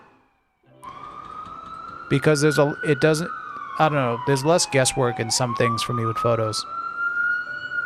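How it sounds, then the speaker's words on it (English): A wailing emergency siren rises and falls steadily in the background while a person talks over it nearby. "Sorry about the siren."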